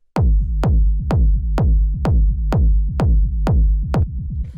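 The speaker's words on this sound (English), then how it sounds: "It's a kick. It sounds like this." A deep techno kick drum sample, Drumcode style, hits nine times in a steady four-on-the-floor pulse, each thump loud and punchy with a short bright click and a booming low tail, heard alone.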